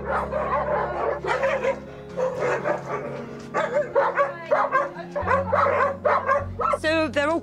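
Dogs at a rescue home bark, yip and whimper in repeated short bursts close by, mixed with people talking throughout.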